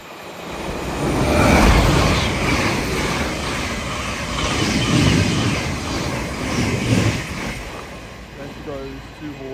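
A Class 700 train runs through Alexandra Palace on the East Coast Main Line: a loud, close rumble and rush that swells and eases over several seconds, with faint rhythmic clatter from the wheels.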